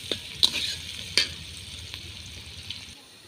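Chopped onion and whole spices fry in leftover fish-frying oil in a home kitchen, a faint steady sizzle punctuated by a few sharp clinks of a stirring utensil.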